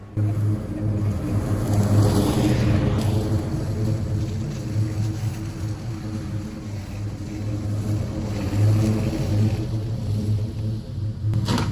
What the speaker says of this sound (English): That was a small piece of wood in the ground I ran over that got lodged in the drive belt, causing it to break away from its spindles.